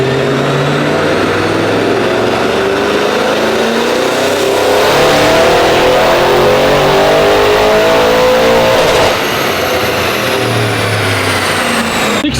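Audi RS7 with a Unitronic Stage 3+ tune revving hard, a loud close engine note climbing and falling through repeated sweeps with a brief lift-off near the end, no voices.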